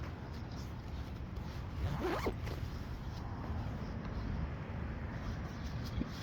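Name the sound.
zipping up a backpack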